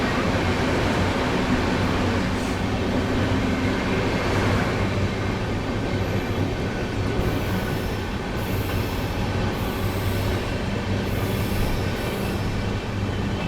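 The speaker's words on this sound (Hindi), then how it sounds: "यहाँ पर अपनी ट्रेन ने स्किप कर रही है रामपुर जंक्शन को" The 12430 New Delhi–Lucknow AC Superfast Express runs through Rampur Junction without stopping, giving a loud, steady rail rumble with high wheel squeals that rise in repeated bursts over the second half.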